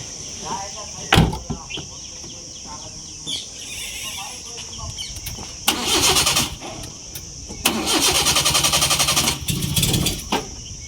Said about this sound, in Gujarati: ગાડું વાળું ચાલુ થતું નહીં.